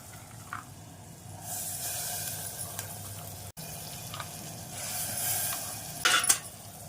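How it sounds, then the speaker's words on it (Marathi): Soaked chana dal and potato with spices sautéing in a pan, a steady close sizzle with soft stirring scrapes and a brief clatter near the end. "चणा डाळ व बटाटा मिक्स करून घेतल्यानंतर त्याला चांगलं परतून घेतलेलं आहे"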